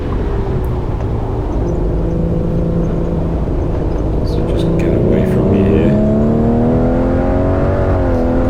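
A Triumph TR6 engine revs hard and steady on a tight sprint course, a loud close in-car drone whose pitch climbs and dips with gear changes and throttle, continuous throughout with no talk.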